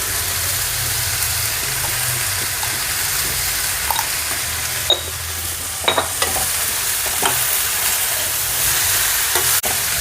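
Lady's finger (okra) sizzles steadily as it fries in a pan, with a few brief scrapes and taps as it is stirred.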